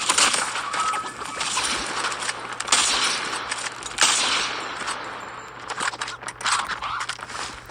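Gunfire in Call of Duty Mobile, repeated rapid shots and bursts at moderate loudness over a continuous game soundscape, with no talking.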